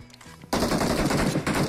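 Rapid automatic gunfire in PUBG Mobile starts abruptly after a brief quiet moment, then continues as a dense, loud, close burst of shots to the end.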